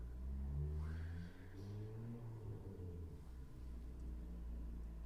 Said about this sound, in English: I apologize if you can hear that car.